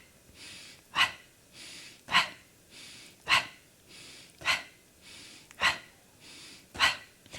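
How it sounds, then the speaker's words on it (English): Rhythmic pumping breath during a Gyrotonic hamstring exercise: sharp, forceful exhales or sniffs repeat about every 1.2 seconds, with softer inhales between them, close and alone. "allow that pumping breath in"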